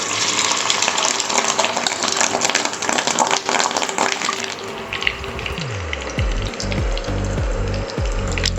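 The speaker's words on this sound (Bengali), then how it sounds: "আমি এবার ডিমের বড়াগুলো ভেজে নিচ্ছি।" Rohu fish roe fritters frying in half a cup of hot oil in a frying pan give a dense, continuous sizzle, which gives way to irregular bubbling and low popping pulses partway through.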